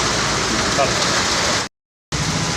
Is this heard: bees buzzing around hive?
no